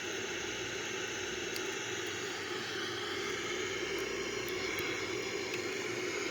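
Steady engine roar and airflow inside a Boeing 787-9 airliner cabin as it descends on an instrument approach toward the airport, a constant broadband drone with no talk.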